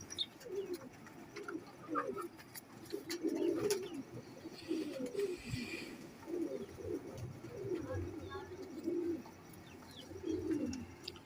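A red-beaked Teddy pigeon coos in soft repeated low throaty phrases, close by, with someone talking over parts of it and other faint bird chirps in the background.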